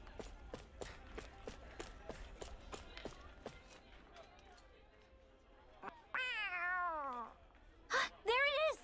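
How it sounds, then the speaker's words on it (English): Cat meows in the video game Tales of Arise, several rising-and-falling cries near the end, heard after a stretch of quiet footsteps and game ambience. "I pet the kitty."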